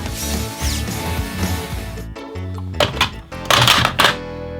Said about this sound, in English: Tape gun!